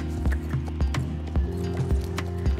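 A Lipizzaner horse's hooves clip-clop in the online horse game Star Stable Online, with a steady, even rhythm of close hoofbeats over a soft tonal background hum.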